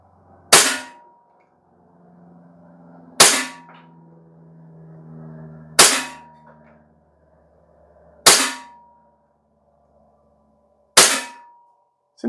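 Five sharp, evenly spaced shots from a BARRA 4006 CO2 blowback BB pistol crack out outdoors, about two and a half seconds apart, each ringing briefly, with faint low background hum between them.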